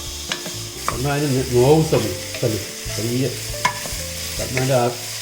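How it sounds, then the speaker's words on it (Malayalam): Sliced onions fry and sizzle in a pan while a utensil stirs them, with repeated scraping strokes and a steady crackling hiss, close and fairly loud with no talking. "ഇളക്കി കണ്ടു കഴിഞ്ഞാൽ ഇങ്ങനെ വേണം ഇളക്കാൻ, അടി ചേർത്ത് ഇളക്കണം."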